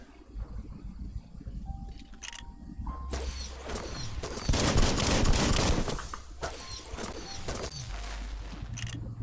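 Rapid gunfire from an automatic weapon during combat in the video game Biomutant, dense bursts of shots with a sustained loud volley in the middle, plus mechanical clicks and game effects.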